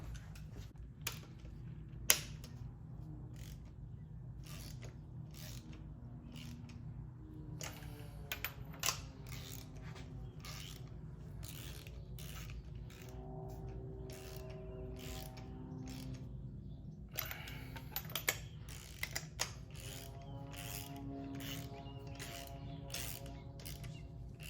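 Bolts being hand tightened on a 1.6 Miata give faint, sparse metallic clicks, ticks and small creaks in a quiet garage over a steady low hum.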